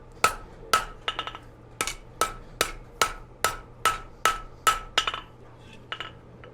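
A hammer rings on metal against the flat of a blacksmith's anvil while forging a railroad spike, about a dozen sharp, close strikes at a steady rhythm, some followed by quick lighter rebound taps.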